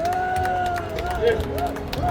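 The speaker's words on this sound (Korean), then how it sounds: "여러분 큰 박수 부탁드리겠습니다" Outdoor political rally crowd applauds, a steady patter of many hands clapping under an amplified announcer's voice, with a tonal hum running through; moderately loud and continuous.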